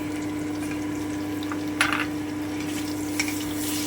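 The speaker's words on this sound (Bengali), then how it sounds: "আমি আরও একটুখানি ভেজে নিচ্ছি যতক্ষণ টমেটোটা না গলে যাচ্ছে ততক্ষণ কিন্তু আমি এটাকে ভাজবো" Potato and tomato fry in a pan, giving a steady close sizzle with a low continuous hum and a couple of brief brighter stirring scrapes, no voices.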